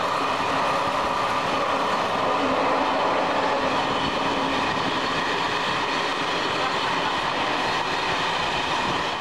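A Czech passenger train in motion, heard from inside the carriage as a loud, steady rumble with dense rhythmic clickety-clack of wheels over rail joints throughout, no voices.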